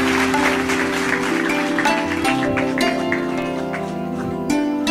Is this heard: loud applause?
yes